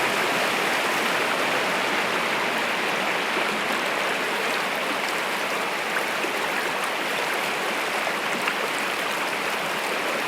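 A mountain creek rushes over rapids and a small waterfall, a loud, continuous broadband roar of moving water up close, steady throughout with no voices.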